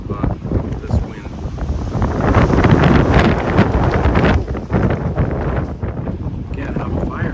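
Strong spring wind at a lakeside camp on Georgian Bay, roaring and buffeting the microphone in loud, rising and falling gusts with no break.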